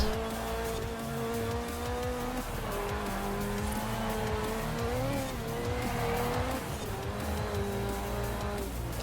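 A car drifting in the Forza Horizon 4 video game, its engine droning steadily while the tires squeal continuously and shift in pitch as the tail slides, loud and close throughout, with no talking.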